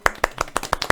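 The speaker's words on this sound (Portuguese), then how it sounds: "palmas para mim." An audience at a talk claps in loud, quick, rhythmic bursts, about six sharp claps packed into one second.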